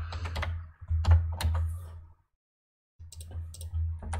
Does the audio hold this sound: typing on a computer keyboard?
yes